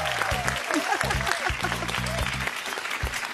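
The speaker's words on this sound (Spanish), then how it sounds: "Aplauso para el equipo azul." Studio audience on the Pasapalabra game show applauds the blue team, a steady wash of clapping running throughout, with a host's voice and music over it.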